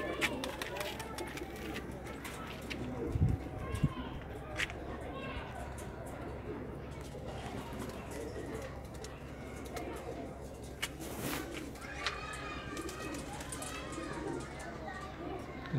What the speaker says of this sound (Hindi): अच्छा, माशाल्लाह, बहुत प्यारा कबूतर है।